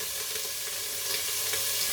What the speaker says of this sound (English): You can hear it bubbling away or sizzling away.